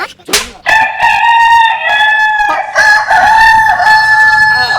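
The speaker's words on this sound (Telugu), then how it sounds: "ఎక్కడ కోడి సౌండ్ అండి?" A rooster crows loudly and close by, one long drawn-out cock-a-doodle-doo followed by another, with a brief squawk at the start.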